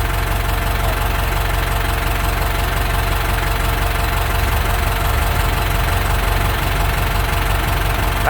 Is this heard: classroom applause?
no